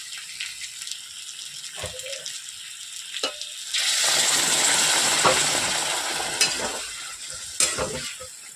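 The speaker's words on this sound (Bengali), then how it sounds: "এখন আমি এতে জল দিয়ে দিই।" Water poured into a sizzling potato and pointed gourd curry sets off a loud, rushing burst of hiss that follows a few quieter stirring clacks, then slowly settles back toward a gentler fry.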